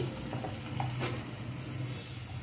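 Upma ingredients with beans stirred in a hot pan, giving a steady low sizzle with a few soft scrapes of the spoon, close and continuous.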